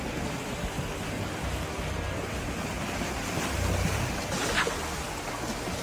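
Ocean waves wash and surge beside a boat at sea, a continuous broad rushing with gusty wind buffeting the microphone and a couple of heavier splashing swells near the end.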